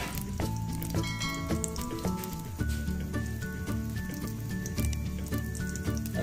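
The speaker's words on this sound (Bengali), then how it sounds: "এখন আমি এগুলোকে তেলের মধ্যে ছেড়ে দেবো।" Malabar spinach (pui shak) leaf fritters sizzle in moderately hot oil in a small wok, a soft steady crackle partly masked by louder background music.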